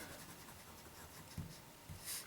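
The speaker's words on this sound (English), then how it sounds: "You can hear an awful lot of feedback on this particular pen." Scratchy rasp of a fine-nib Narwhal fountain pen with purple ink moving across paper, faint and close with a few light strokes.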